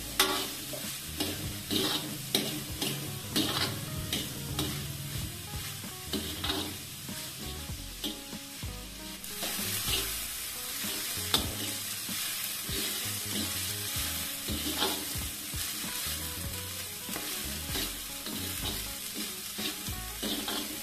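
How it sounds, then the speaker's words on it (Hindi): Onion lightly frying on a medium flame in a pan for a radish and fenugreek bhaji, with a continuous sizzle broken by frequent rhythmic spatula scrapes and taps, close and without talk. "हमारा प्याज हल्का सा भुन चुका है"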